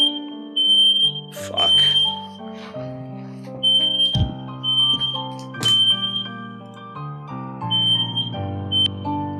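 A smoke alarm beeps in repeated high shrill chirps over a melodic tune, with a brief exclaimed word partway through.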